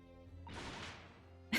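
A Venus special firework in The Great Ace Attorney Chronicles goes off with a single sharp bang like a gunshot, a brief crack that trails into a noisy crash before a short tick at the end.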